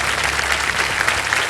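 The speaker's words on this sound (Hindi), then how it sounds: "तालियां बज जाए इनके लिए" Sustained studio audience applause fills a game-show set after a contestant wins prize money, a dense, steady wash of clapping held at even loudness throughout.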